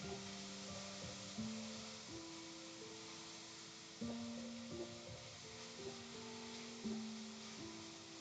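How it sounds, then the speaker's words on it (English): Lobster and meat stir-fry with vegetables sizzles loudly and steadily in a hot pan, with periodic swells as the food is stirred and tossed, close and under sustained tonal background music. "Now there's a pretty loud sizzle on my end"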